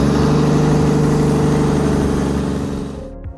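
A Toyota Mk3 Supra with a 1JZ engine idling with a steady low rumble and even pulsing, loud and close, cutting off abruptly at the end.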